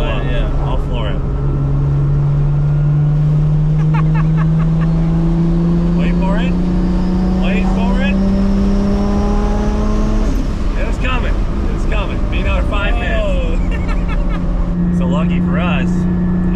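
A 1,300hp sleeper rat-rod Toyota Supra is floored from about 3,000 RPM, its engine drone climbing slowly through heavy turbo lag, loud and close inside the car, with people talking over it.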